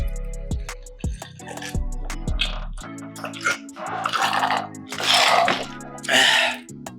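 A drink is chugged in a rapid series of rhythmic gulps, then come breathy gasps and throat-clearing sounds as the drinker finishes. It is close and fairly loud.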